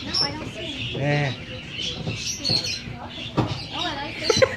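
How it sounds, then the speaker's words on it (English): Small finches give short, high chirps and tweets close by, mixed with people talking over them. "These are called finches."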